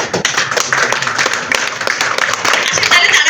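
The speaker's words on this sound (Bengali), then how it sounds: "একটা জোরে করতালি" Dense applause from an audience at a communication skills training session in Bhola Upazila, with many hands clapping together at a steady, loud level throughout.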